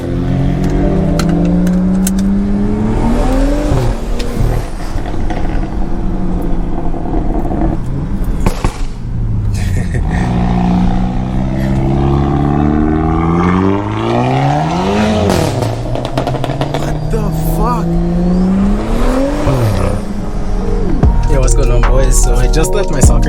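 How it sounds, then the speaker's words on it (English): A Stage 2+ tuned BMW in Sport Plus mode barks through a cold start inside a parking garage, its loud engine revving up and down repeatedly with echoing rumble and sharp rising sweeps, close and continuous with no talk. "this is a cold start. Cars in Sport Plus in a parking garage"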